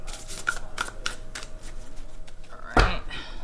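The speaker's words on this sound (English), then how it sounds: "I'm just gonna kind of sort of shuffle and split" Tarot cards are shuffled and split by hand, a run of crisp riffling flicks and soft slaps close by, ending in one sharp louder snap of the deck.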